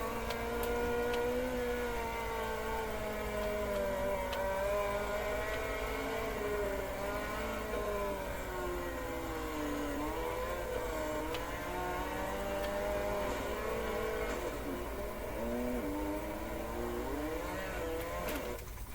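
A sprint car runs a practice lap in World of Outlaws '23, its engine a constant loud drone with wavering harmonics that rise and fall through corners, heard alone for the whole stretch.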